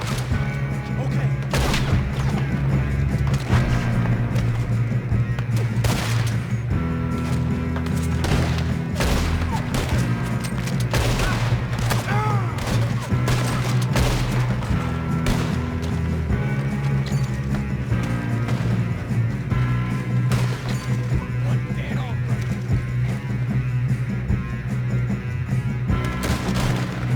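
Sustained gunfire in a Red Dead Redemption 2 shootout, with rapid overlapping shots and crashes running continuously over a steady low musical drone, loud throughout, while voices speak intermittently.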